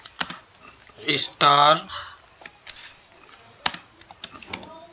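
Typing an SQL query on a computer keyboard, with scattered short key clicks under someone speaking Hindi and a brief louder burst near the middle.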